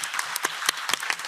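Brief burst of audience clapping at a conference on care policy, individual claps distinct and fairly close within a short steady patter.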